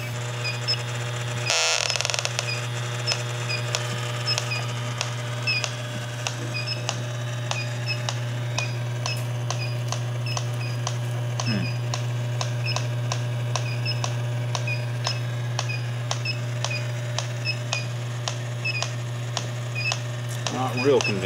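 An ultrasonic leak detector checked against a leak reference gives rapid, regular ticking pulses over a steady low hum for the full stretch, with one brief louder burst near the start.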